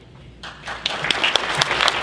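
An audience at a wrestling hall of fame honors banquet claps softly, the applause swelling after a quiet start, scattered and somewhat distant.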